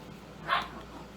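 A single short bark from a dog somewhere in the background, one brief burst amid quiet room tone while a cutting board is being painted and glued.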